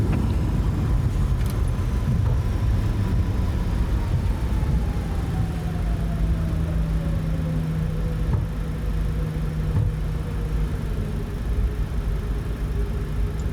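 A Boeing 737-600 in a flight simulator rolling out after landing at San Juan with its two thrust reversers deployed, giving a steady, loud engine roar and rumble whose pitch slowly falls as the aircraft decelerates; no speech.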